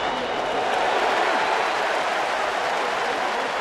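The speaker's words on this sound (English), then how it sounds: "This is as excited as this robust crowd has been today here in Atlanta." A robust baseball crowd in Atlanta roars with steady, dense cheering and applause throughout, a broad continuous wash of noise with the Braves batting, bases loaded and two out.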